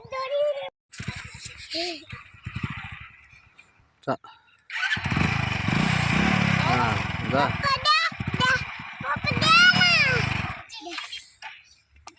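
A two-wheeler scooter engine starts and revs in short bursts, rising and falling near the microphone while people talk over and between the revs.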